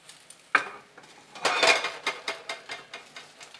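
Spoon scooping cooked rice in a metal pot for rice and beans, scraping and clinking close by, with a sharp knock followed by a run of soft rhythmic scrapes.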